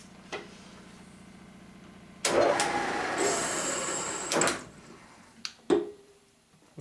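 A 3-phase drum motor on a machining setup reverses and stops abruptly while tapping a stud, giving a sudden loud whirring burst, then a clunk and a short second spin-up, with sharp metallic clicks and a ticking idle around them.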